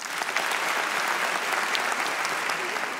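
Steady applause from a comedy show audience fills the room, dense and continuous clapping without pauses, fairly loud and close with a crowd murmur underneath.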